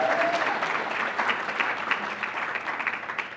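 Dense, sustained applause from an evening lecture audience at the UCI School of Social Ecology, loud and close throughout with no break.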